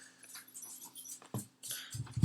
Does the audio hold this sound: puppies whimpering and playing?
yes